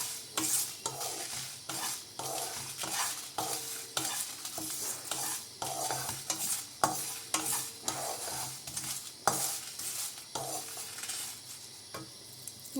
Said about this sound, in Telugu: వీటినన్నిటినీ కూడా దోరగా ఫ్రై చేసుకోవాలన్నమాట.